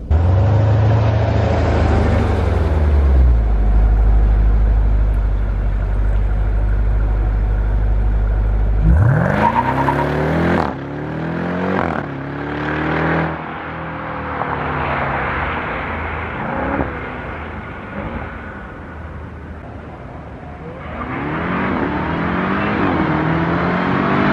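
755 HP Jeep Trackhawk with a 6.2-litre engine revving hard and accelerating on a track, loud deep roar rising through quick automatic gear changes, then easing off before building again.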